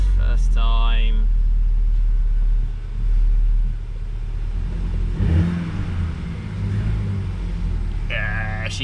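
A VW Golf R that had refused to start fires up and settles into a steady, loud engine rumble close by, with a brief rev in the middle and people talking over the running motor.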